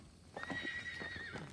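A sorrel ten-year-old Saddlebred and Tennessee Walking Horse cross mare gives one long, loud, ringing whinny up close, rising then wavering for about a second, with no talk over it.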